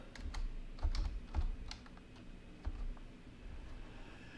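A short burst of computer keyboard typing, entering a numeric offset value in CAD software; several quick, close keystrokes with light clicks, no talking.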